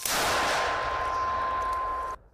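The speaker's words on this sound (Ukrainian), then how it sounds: "Міномет! Постріл!" A single sharp, loud blast from a mortar firing, followed by a ringing tone that fades quickly.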